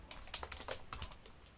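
Code being typed on a computer keyboard: a short, fast run of close, crisp key clicks in an irregular rhythm, heard alone.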